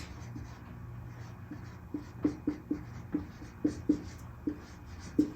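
Marker or chalk scratches across a board in short, evenly spaced strokes, a dozen or so crisp taps and squeaks over a low steady room hum.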